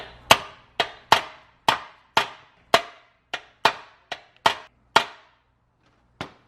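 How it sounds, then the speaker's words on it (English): A normal hammer whacks a shifter part into place during a Serialnine CD999 shifter installation, delivering about a dozen sharp, loud metallic strikes in a steady rhythm, then a pause and one final hit. "take your normal hammer, give it a whack"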